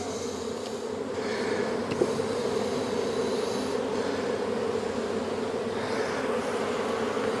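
Bees buzzing around an opened hive during an inspection, a dense steady drone holding evenly throughout with a faint brief knock near the two-second mark.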